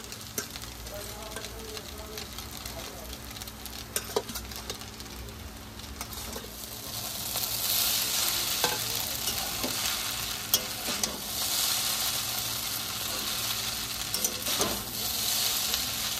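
Eggs are stirred and fried into chowmein in a hot pan, making a steady sizzle with scraping stirs and clinks that grows louder and hissier partway through, close up.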